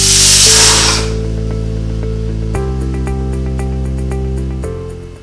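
Pressure cooker holding pongal vents its steam: a loud hiss bursts out at the start, then fades into a sustained whistling drone with shifting tones and faint clicking over several seconds.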